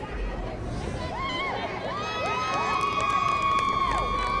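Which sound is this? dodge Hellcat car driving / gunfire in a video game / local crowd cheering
local crowd cheering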